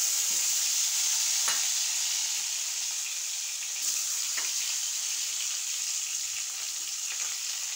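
Small brinjals fry in hot oil with a steady, close sizzle and faint crackles throughout, without any voices.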